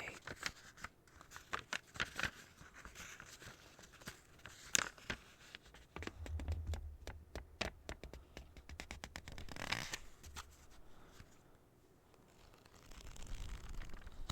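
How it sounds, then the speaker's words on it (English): Crisp paper rustling and crinkling comes in irregular bursts with quiet gaps, close by and fairly soft. "Paper sounds are just so exquisite, aren't they?"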